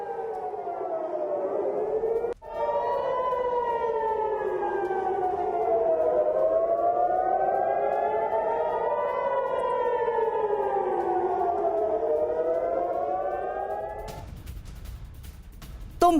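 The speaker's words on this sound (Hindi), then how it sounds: "तेल अवीव के सभी इलाकों में सायरन बज रहे हैं" Several air raid sirens wail together across Tel Aviv during a missile attack, their tones rising and falling in long overlapping sweeps, loud and sustained, fading near the end.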